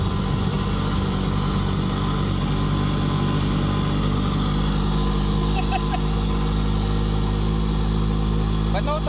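Retro rally car engine during a tourism rally, droning loudly and continuously from inside the cabin, with steady low rumble throughout, no clear rev peaks.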